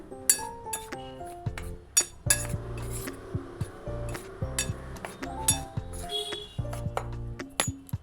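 Spoon clinking against a bowl while mashed sweet potato is mixed with ginger, salt and sugar, a series of close metallic taps and rings in an uneven rhythm, with a faint voice at moments.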